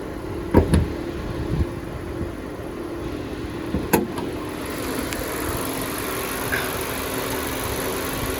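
A 2018 Honda Accord Touring's 2.0-liter four-cylinder engine idles steadily and up close, with a few sharp clicks and knocks over the constant hum.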